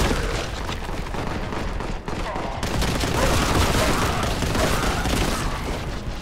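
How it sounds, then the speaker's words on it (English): Sustained video-game gunfire sprays at the player in a dense, continuous barrage with booming hits, loud and close throughout, broken only by a brief dip midway. "I would prefer you to stop shooting at me"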